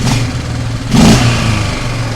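An old, rough-running 4x4 ATV engine revs once, a close mid-pitched surge over a steady idle.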